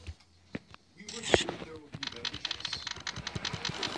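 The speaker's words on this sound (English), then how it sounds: "Keyboard, keyboard, keyboard." Computer keyboard typing: quick, irregular clacking keystrokes, fairly close, after a quiet start with a few isolated clicks, then steady rapid tapping with a brief brighter chirp early on.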